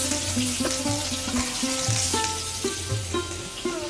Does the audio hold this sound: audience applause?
no